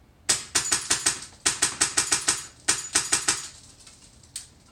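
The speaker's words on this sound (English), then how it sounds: "Couple of bursts." A Wolverine MTW airsoft rifle in semi fires several quick bursts of sharp, close mechanical clacks, grouped in rapid runs with brief pauses between, loud and alone.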